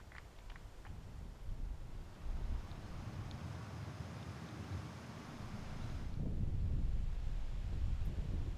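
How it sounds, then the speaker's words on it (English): Wind gusting across an open golf course during a professional tour event, a steady broadband rush that swells louder in the final seconds, with no voices. "you can see that wind tugging at the shirt"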